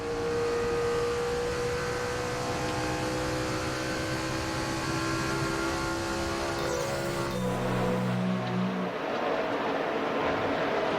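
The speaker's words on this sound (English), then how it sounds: "205 miles per hour off of Casey Kane's car going down to turn 1" NASCAR Cup Series race cars at Michigan Speedway in 2006, running around 205 mph into turn 1, give a loud, continuous engine roar with layered whine. The pitch shifts as cars pass close by, and there is no talk.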